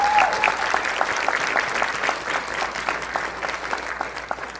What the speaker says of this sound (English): Just give our candidates a warm round of applause, please.